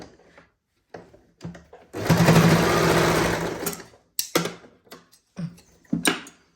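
An electric sewing machine stitches a saree blouse in one steady burst of about two seconds, loud and close, set between shorter starts and stops with quiet gaps.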